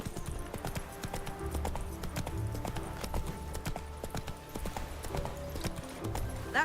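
Horse hooves clip-clop in a steady, even trotting rhythm in the video game The Witcher 3, close and clear, with faint voices now and then underneath.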